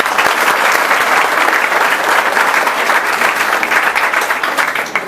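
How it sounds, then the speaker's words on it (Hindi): A large crowd at a Hindi-language RAS exam talk breaks into loud applause: thick, continuous clapping from many people that stays strong and even throughout with no pause. "आप लोगों के लिए तालियां जोरदार"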